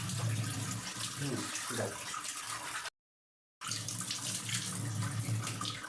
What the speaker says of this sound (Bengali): আমি এখন এই যে চর্বিগুলো ধুচ্ছি, আর তোমার এই পেঁয়াজ রসুন তারপরে আদা এগুলো ধুচ্ছি